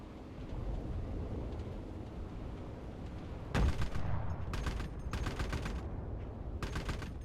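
Bursts of machine-gun fire from a rear gunner in the video game Enlisted: several sharp rapid volleys, loud and close, cut in over a steady low engine-like rumble, with short gaps between the bursts.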